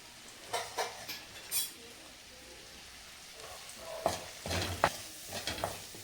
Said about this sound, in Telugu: దీన్ని బాగా ఫ్రై చేసుకుందాం